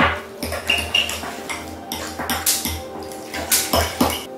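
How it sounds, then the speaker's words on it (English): Drained canned crab meat is mixed into softened cream cheese in a bowl, with a spoon repeatedly scraping and clinking against the bowl in an uneven rhythm, close and moderately loud. "And then just mix the crab meat into the cream cheese."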